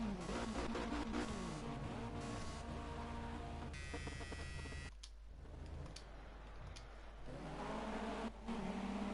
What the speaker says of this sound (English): Sounds nice, this car.